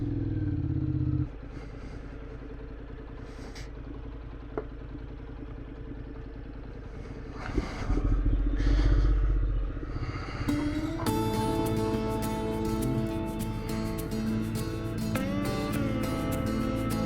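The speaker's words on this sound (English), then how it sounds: "This is what motorcycle riding should be like, a leisurely" A motorcycle on a leisurely ride hums along with a steady engine drone and wind rumble, close and moderately loud, with the tone shifting later as the bike changes pace.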